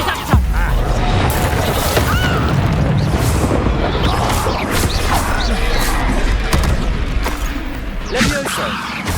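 A loud Reductor spell explosion in the video game Hogwarts Legacy booms up close, followed by continuous crashing, thudding combat noise and scattered impacts, with a voice speaking over the chaos.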